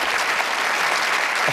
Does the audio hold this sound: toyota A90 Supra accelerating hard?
no